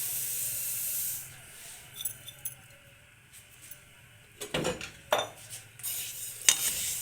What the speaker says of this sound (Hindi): अब हम अलसी को कढ़ाई में डालकर भूनना शुरू करेंगे।